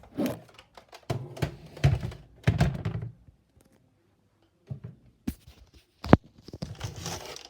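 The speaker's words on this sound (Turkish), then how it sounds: "Bir tane atış göstereyim topu vuracağım." A Nerf DS-15 blaster is loaded and fired at a ball, giving a few sharp thunks and clacks of the mechanism. One crisp, loud shot stands out near the end, with short mechanical handling noises before it and no speech.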